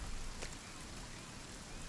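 Steady rainfall in the survival video game Sons of the Forest, a constant soft hiss of drops pattering on surfaces, even in level throughout with no voices.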